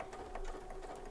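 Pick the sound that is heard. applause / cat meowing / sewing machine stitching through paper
sewing machine stitching through paper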